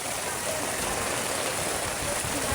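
Heavy storm rain pours down in a steady, dense hiss that stays loud and unbroken throughout.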